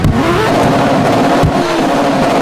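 A flaming Fire Blade big bike in Roblox runs its engine with a loud, steady, close motorcycle drone that rises slightly in pitch as it revs.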